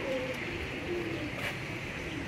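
Soft, low coos from Teddy pigeons sound a few times over a steady background hum, faint and close by.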